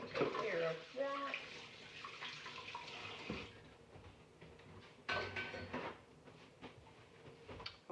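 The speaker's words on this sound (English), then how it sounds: "let me wash my hands" Water runs steadily from a kitchen tap while hands are washed at the sink, a loud continuous splash with shifting surges, and a voice speaks over it at the start.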